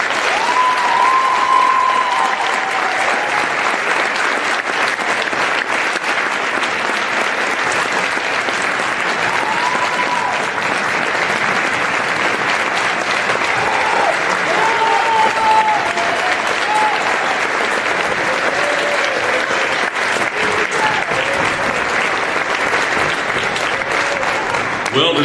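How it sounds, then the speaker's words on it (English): A crowd at a school pep rally gives a standing ovation to a basketball head coach, sustained loud applause and cheering lasting the whole stretch without letting up. "Well-deserved standing ovation for head coach Chris Flood."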